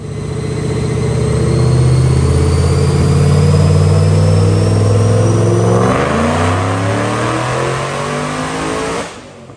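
A Mustang with a modified 3V engine making about 800 rear-wheel horsepower revs hard on a Dynojet chassis dyno, one sustained loud pull that climbs steadily in pitch toward roughly 6,300 RPM, then cuts off sharply near the end.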